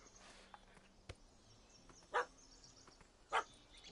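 A puppy in The Witcher 3 barks twice, sharp and moderately close, amid quiet game ambience with a few faint clicks and no talking.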